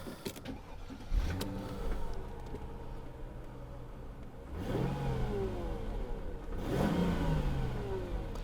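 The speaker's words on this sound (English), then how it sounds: "Engine's nice and smooth." A 1999 Mercedes-Benz S-Class engine with stock exhaust revs up and settles three times, each rise sweeping sharply upward before falling back to a smooth idle, close and clear with no talking.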